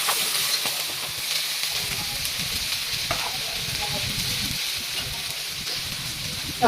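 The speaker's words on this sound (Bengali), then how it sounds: "এখন এটার মধ্যে পানি দিয়ে দিব পানি দিয়ে দিল" Onions and green chilies frying in a pan hiss and sizzle steadily after water is poured in, a continuous close crackling hiss with occasional stirring scrapes and no talk.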